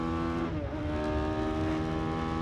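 Racing car engine at Silverstone held near the limiter in top gear at speed, a steady high-pitched multi-toned drone with a brief dip as it settles, loud and continuous throughout.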